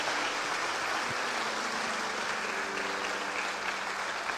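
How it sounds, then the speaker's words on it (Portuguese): A church congregation applauds together, a thick, even roar of clapping hands that fills the room at steady volume throughout, with a faint musical tone underneath. "Você pode aplaudir o Senhor Jesus?"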